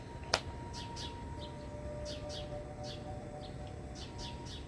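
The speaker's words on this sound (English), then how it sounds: "there's a little finch over there who's just, noisy as" A small finch chirps outside a window in a series of quick, high, bright chirps, some single and some in pairs, fairly faint over a low background hum, with one sharp click near the start.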